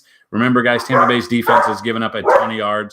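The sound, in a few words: dogs barking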